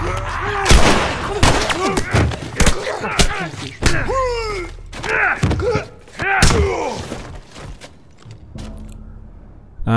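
Gunfire from The Last of Us, a string of sharp, loud shots and heavy impacts in quick bursts, mixed with grunts, cries and frantic game sounds, tailing off into quieter ambience near the end.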